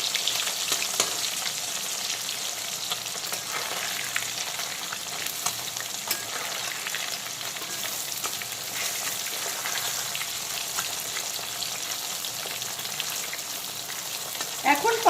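Parshe fish frying in a pan on high flame, a steady bright crackling sizzle held throughout with a faint stir near the end, close and loud, no speech.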